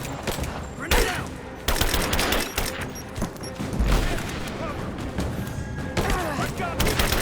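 Gunfire in Rise of the Tomb Raider, with a dense mix of sharp shots and bursts at close range throughout, several loud cracks standing out; voices shout over the fighting.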